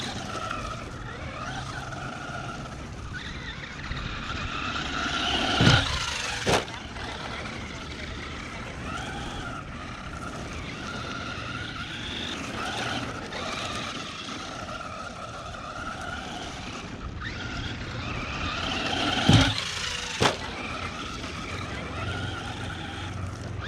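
A Traxxas Rustler 4x4 VXL radio-controlled car drives around an outdoor course with jumps, giving a steady motor whine and rumble with a couple of sharp bumps or landings partway through, while a voice talks over it.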